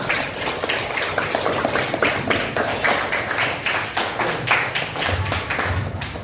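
A classroom group of students claps hands together in a quick, fairly even rhythm that stays close and loud for several seconds.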